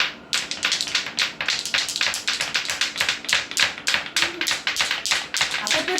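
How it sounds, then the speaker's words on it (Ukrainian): Two stones tapped against each other again and again, a steady run of sharp, bright clicks, about four per second, close and clear with no talking. "давайте отак е, постукаємо довго-довго-довго"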